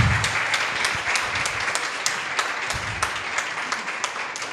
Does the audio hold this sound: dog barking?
no